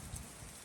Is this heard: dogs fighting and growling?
no